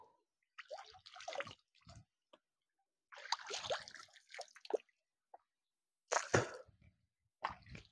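Water splashing and dripping as hands and feet are washed in cold water at Panari waterfall, coming in short intermittent bursts with quiet gaps between them.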